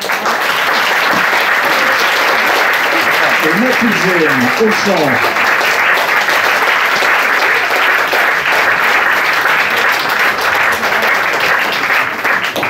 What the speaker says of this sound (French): ça, c'est ce que j'appelle des applaudissements polis